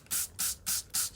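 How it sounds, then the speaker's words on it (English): Hand spray bottle misting water onto a folded kitchen towel holding squash seeds, four quick even hissing squirts in steady rhythm, close and clear with no talk. "We'll give it a spray of water."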